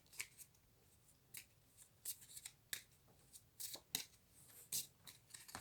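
Marseille tarot cards being shuffled and cut by hand, a quiet close sequence of soft riffling flicks and slaps in irregular bursts, no voice.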